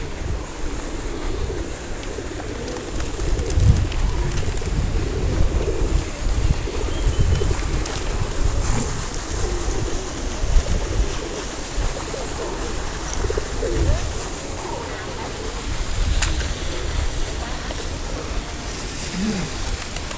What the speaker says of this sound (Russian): Тут собралась тусовка голубей.